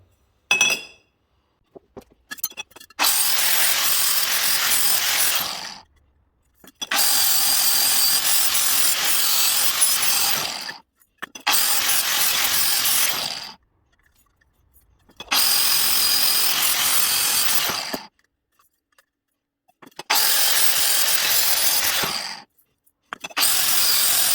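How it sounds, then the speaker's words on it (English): Soft sanding pad blending a joint on a handmade exhaust pipe for a 1924 Omega motorcycle, five long loud abrasive rasping passes of a few seconds each, separated by short silent gaps. "get a new soft pad out and just blend it in until that butts up nicely"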